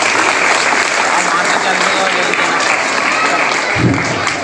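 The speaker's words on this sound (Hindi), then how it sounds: "जोरदार तालियां।" Loud, sustained clapping from the audience at a school flower-garlanding (gulposhi) ceremony for society members and teachers, even and unbroken, with a brief dull thump near the end.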